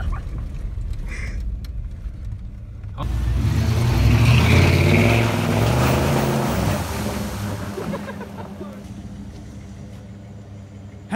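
A 1993 Chevy K1500 truck engine with only one working exhaust pipe, on a river trail, rumbles loudly, swelling after a quiet start, holding steady and then easing off, with a low, rough tone.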